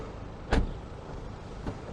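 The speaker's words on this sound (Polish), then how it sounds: "Jak tutaj się otwierają drzwi i zamykają." On a 2018 BMW 320d GT, a car door is worked by hand, giving one solid, near thud followed by a fainter second knock over a steady background rumble.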